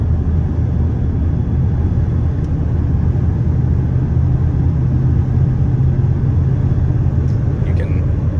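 Inside the airtight cab of a 1997 Ford F-250 XLT 4x4 with a 460 engine and 5-speed, cruising on the highway: a steady, even low road-and-engine rumble drones throughout.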